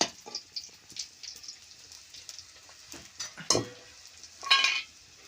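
Chillies and ground masala are stirred into hot oil in a village kitchen, producing a soft crackle and sizzle with scattered scraping pops and a couple of louder spits, fairly faint and close.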